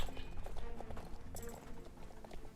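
A horse's hooves clip-clop at a brisk, steady gait in the online riding game Star Stable, close and fairly loud over a low game soundscape.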